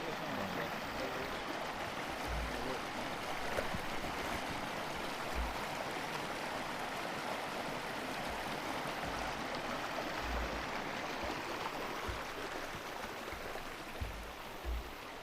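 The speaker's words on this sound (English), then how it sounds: "Now there's only a small stream of water." Water rushes and burbles steadily close by, a continuous hiss of a small stream flowing through a former mill pond site, with no voices.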